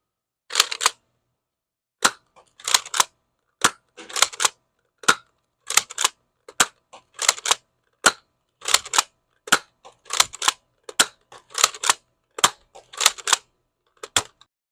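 An X-Shot Lock Blaster toy fires foam darts in a long series of sharp, dry snaps. The snaps come singly and in quick pairs and clusters, close by, with silence between them.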